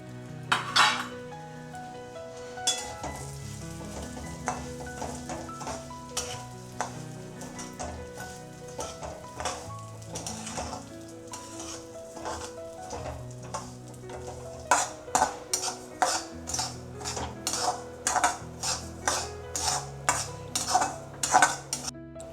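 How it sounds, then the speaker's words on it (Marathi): Semolina roasts in hot oil while a spoon stirs it, steady soft frying hiss under repeated scraping and clinking strokes against the pan, turning into quicker rhythmic knocks in the latter half. "तेल तापलेलं आहे, मी रवा टाकते भाजायला।"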